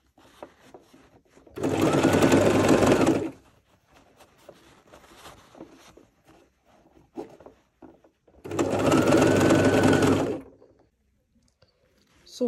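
A sewing machine stitches velvet onto the V-neckline of a boubou in two loud, close bursts of rapid whirring, each about two seconds long, separated by quiet handling noises and faint fabric movement.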